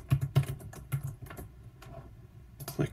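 Keys clacking on a computer keyboard while a comment is typed, a quick irregular run of close, crisp taps with brief pauses, alone without any speech.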